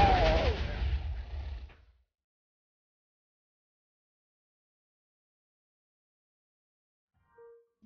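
A TNT explosion in Minecraft bursts out loud and broadband at the start, rumbling and fading over about two seconds, then silence with a faint short tone near the end.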